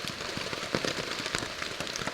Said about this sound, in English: This rain just hasn't let up at all. It's bucketed down and bucketed down since about 8 o'clock.